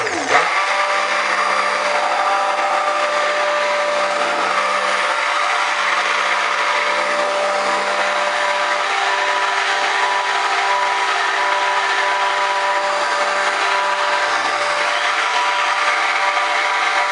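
A blender runs continuously at a loud, steady whine while mixing soap batter with added scent, a close, unbroken motor drone with no talking over it.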